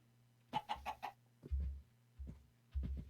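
Minecraft chicken clucking in a short burst of three or four quick clucks, followed by low, dull thuds at a steady pace under a faint constant hum.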